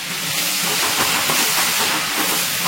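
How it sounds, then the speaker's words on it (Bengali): Water rinsed from a grinder jar hits hot oil and ground masala of cardamom, cinnamon and cloves, bursting into a loud, dense, unbroken hiss up close. "দিয়ে দিচ্ছি মিক্সির বাটি ধুয়ে একটু জল।"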